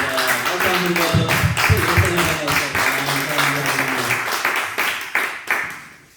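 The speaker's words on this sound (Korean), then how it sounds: "박수." Applause from a church congregation after a prayer, loud and continuous with voices talking over it, tapering off with a few final claps.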